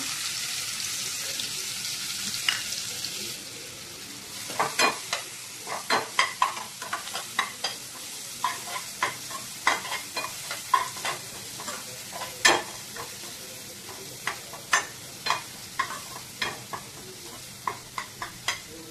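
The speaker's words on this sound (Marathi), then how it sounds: "कांदा गोल्डन होईपर्यंत चांगला परतून घेऊयात" Onion frying in oil with mustard seeds and cumin for a shahi bhindi dish, with a soft hissing sizzle under a run of irregular sharp clicks and spoon scrapes, close by, with no talking.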